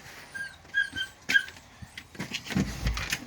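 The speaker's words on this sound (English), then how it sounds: "the puppy's yelling" A puppy yelps outdoors on a homestead garden, giving a series of short, high-pitched whimpering cries in quick bursts over light background noise.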